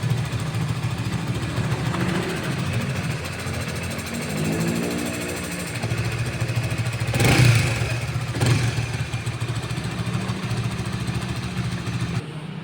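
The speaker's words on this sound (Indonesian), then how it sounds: "Ini suara mesinnya" A 2020 Honda Supra GTR 150 motorcycle engine idles with a rough, clattering rumble, steady and close, briefly revving once before settling back.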